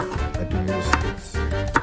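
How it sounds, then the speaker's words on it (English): A knife chops an onion on a board in a home kitchen, a few quick close cuts in an uneven rhythm with no talking. "Cut down the onion."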